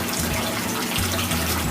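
Water sample being poured at an urban farm's fish tank, a steady close splashing flow lasting throughout with a brief shift in the stream partway, no talking.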